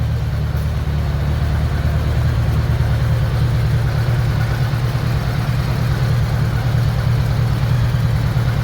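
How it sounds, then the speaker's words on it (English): A budget bobber motorcycle engine idles steadily with an exhaust leak, a loud, continuous low rumble with a fast pulsing throb that holds evenly throughout, no voices over it. "So the exhaust leak is driving me nuts already."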